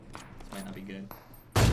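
An AWM sniper rifle in the mobile battle-royale game PUBG Mobile fires a single loud, sudden shot at the end, following quieter in-game noises and a talking voice.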